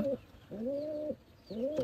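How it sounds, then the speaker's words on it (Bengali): Pigeons coo close by in three soft, rolling calls separated by short pauses, with no other sounds around them. "এই খোপে সব কবুতর আছে।"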